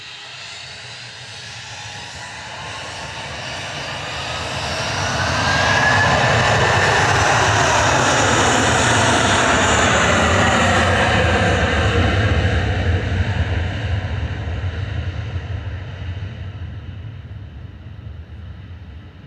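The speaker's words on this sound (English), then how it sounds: "This is Eurowings departing to Dusseldorf with flight 9343. A321 Classic" Eurowings Airbus A321 jet departing Manchester Airport, its engine roar building over several seconds into a loud, sustained broadband rumble with a rising whine, then slowly easing as it climbs away.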